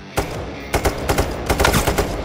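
Game gunfire in Payday 3 during a heist shootout with police: a rapid string of sharp, loud bursts and single shots, irregularly spaced over dense background noise, with no talk.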